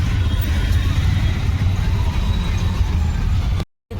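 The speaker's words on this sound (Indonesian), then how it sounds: "Ini macet banget teman-teman." Congested road traffic in India rumbles around a moving vehicle, a steady low drone of engines and road noise that cuts out abruptly near the end.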